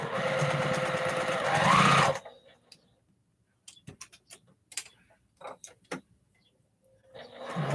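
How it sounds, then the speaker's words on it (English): A sewing machine runs in a fast, close whirring burst while stitching quilt seams for a postage stamp quilt top, then stops, leaving quiet ticks and handling clicks before the machine starts up again at the end. "I'm sewing with these seams pointing up"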